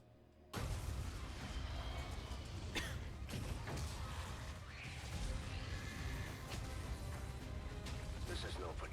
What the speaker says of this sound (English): Omega fires like one shot and just huge explosion